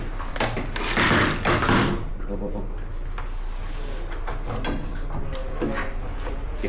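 Someone bangs repeatedly on a locked bedroom door to force it open, heavy thuds loudest early and then continuing more softly, with voices talking nearby.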